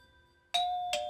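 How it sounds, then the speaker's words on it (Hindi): Doorbell at a home chiming twice in a bright ding-dong, clear and close, following a soft low background tone. "डोरबेल।"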